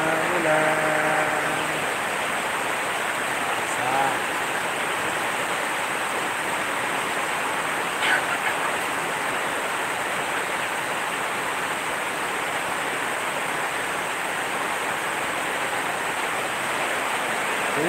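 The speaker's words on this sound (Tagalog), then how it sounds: "Malakas sa ulan guys." Heavy rain pours down steadily in a constant, dense hiss with no pauses, with a brief voice faintly heard near the start.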